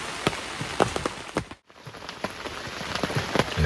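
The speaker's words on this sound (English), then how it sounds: "See the rain coming in. It's just steadily raining." Steady rain falls around a hunting stand outdoors, a dense patter of close drops with sharper individual hits, briefly cutting out near the middle before the same even shower resumes.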